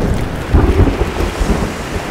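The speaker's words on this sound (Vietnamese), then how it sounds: "Ôi trời, bão biển sao?" A cartoon thunderstorm at sea gives a loud, continuous low rumble of wind and rolling thunder with surging swells, steady throughout with no voices.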